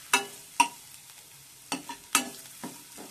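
Grated fresh coconut sautéed in ghee with dry fruits, stirred in a pan: a few sharp scraping stirs and soft sizzles at uneven intervals, close and fairly quiet, with no voices.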